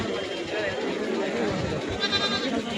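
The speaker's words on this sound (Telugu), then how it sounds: "పక్కనే పోతులు ఉన్నాయి భయంకరంగా." Goats and rams bleat among the crowd at a weekly sheep and goat market, the cries mixed under constant people talking and general market bustle.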